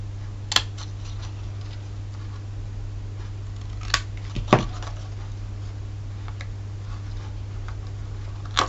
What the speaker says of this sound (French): Et là, on coupe un peu en biseau de ce côté, de ce côté.